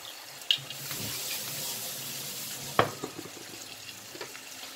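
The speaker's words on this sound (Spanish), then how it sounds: "Y le vamos a poner un buen chorro de vino seco." A splash of dry wine poured into chicken wings cooking in a pan for a Cuban dish, a steady liquid hiss with a couple of sharp clinks, no talk.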